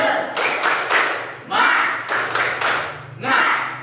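Classroom group of students performing a rhythmic 'tepuk semangat' clap chant together, with several quick bursts of clapping in bouncy patterns alongside chanted voices, close and fairly loud.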